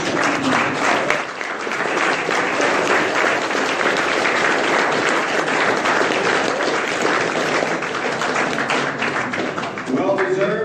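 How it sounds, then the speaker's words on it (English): A standing crowd at a boxing weigh-in gives a loud, dense round of applause that holds steady for about ten seconds before tapering, with a voice briefly heard at the close. "Why don't we stand and give him a round of applause before we get started."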